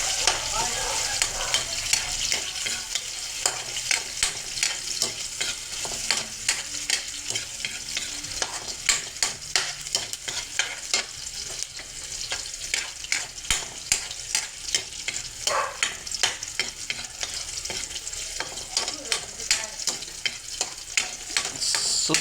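Spices stir-fry in a hot pan until brown, giving a steady loud sizzle broken by rapid, repeated scraping and stirring strokes for the whole stretch, with no talking.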